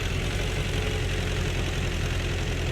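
An LTZ T-40AM tractor idles in Farming Simulator 17, giving a steady low rumbling drone with a faint rhythmic knock throughout. Nothing else is heard.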